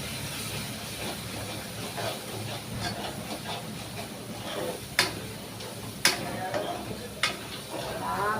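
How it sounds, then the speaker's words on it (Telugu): Chicken masala being stirred into a fish curry in a pan, with a soft steady sizzle and a few sharp clicks of a spoon against the pot. "ఎవరెస్ట్ది చికెన్ మసాలా ఇది వేసుకొని దీన్ని ఇలా కలుపుకుందాం"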